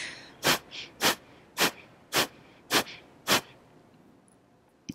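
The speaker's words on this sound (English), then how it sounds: "Practiced by taking sharp, forceful exhales." Six sharp, forceful exhales through the nose during a yoga breathing exercise, evenly spaced about half a second apart, close and breathy, with quiet pauses between them.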